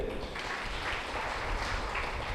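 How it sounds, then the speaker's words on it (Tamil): Audience in a Catholic parish gathering at Sathampatti claps together in a steady, dense wash of applause lasting a couple of seconds, moderately loud with no clear voices above it. "எல்லாம் கைத்தட்டுங்க"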